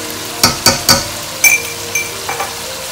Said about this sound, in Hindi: तो हम यहाँ पर अपने मसाले को अच्छे से भून लेंगे 2 से 3 मिनट के लिए।